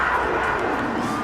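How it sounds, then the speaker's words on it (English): Stadium crowd in an American football video game roars steadily ahead of a big third down late in a tight fourth quarter, a broad, even wash of cheering with no voices standing out. "the crowd getting into it as we come up on a big 3rd down"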